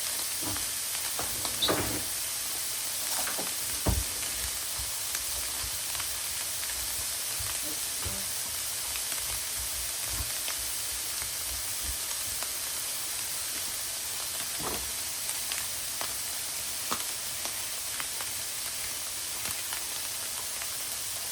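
Onions fry in a pan next to potatoes cooking, giving a soft, steady sizzle and hiss with occasional small pops and clatters.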